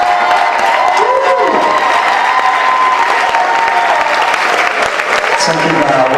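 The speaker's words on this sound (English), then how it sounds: "Can we keep the applause going for him?" A variety show crowd keeps up loud, continuous applause mixed with cheers and whoops, a thick sustained roar with voices calling out over the clapping.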